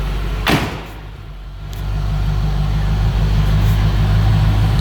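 A stock 1988 Chevrolet Corvette idles with a steady low rumble close by, opening with a brief sharp knock or door-like thud before the engine drone settles in, no voices.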